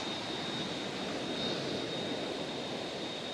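A Boeing 787's jet engines in the Roblox flight game Aeronautica give a steady, loud, broadband roar with a thin high whine, unbroken and without talk.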